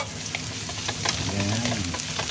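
Garlic, ginger and onions sauté in a hot pan with a steady, close sizzle and crackle that runs unbroken throughout, with a few soft stirring scrapes and no talking.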